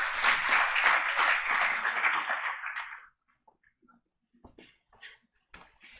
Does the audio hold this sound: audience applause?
yes